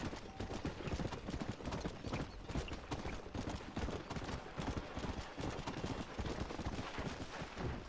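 A galloping horse's hooves pound in a fast, steady clip-clop rhythm in the Red Dead Redemption video game. The hoofbeats are close and continuous throughout, with no voices over them.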